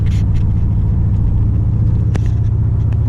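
Steady low engine rumble of a Pontiac GXP car, continuous and fairly loud throughout, with a brief sharper click or tick partway through.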